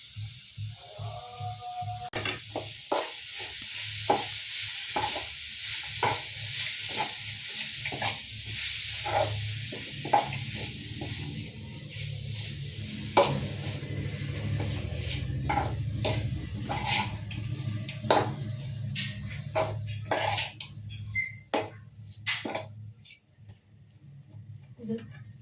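Food is stirred in a pot over heat, with repeated scraping strokes and clicks over a soft sizzle, fairly close, while a voice talks intermittently.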